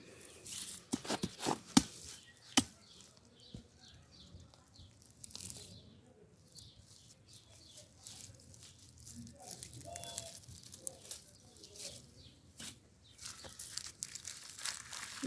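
Onions being dug up by hand from home garden soil, with intermittent crumbly tearing and crunching of earth and roots in short bursts, fairly close, some rustling between.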